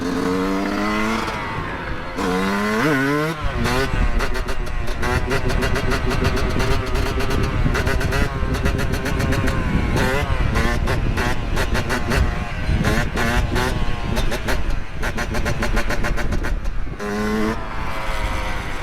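A Yamaha YZ125 two-stroke dirt bike ridden on a mountain trail, its engine loud and close throughout, repeatedly revving up and dropping back between gear changes, with a brief lower idle at the start.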